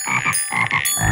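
A cartoon frog in a children's counting video game gives a rapid series of about five bright, close croaks in quick rhythm, followed by a low thump at the end.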